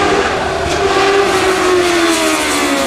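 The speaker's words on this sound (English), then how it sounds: "Another Suzuki Hayabusa engine vehicle" Light sprint car powered by a 2-litre Suzuki Hayabusa motorbike engine, on a sprint course, accelerating with a steady, loud, high-pitched engine note that climbs gently across a continuous run.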